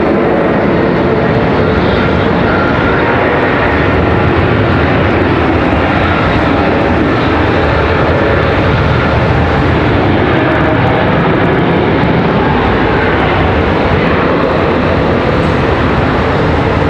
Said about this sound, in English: Got American Airlines 2189 off to Madison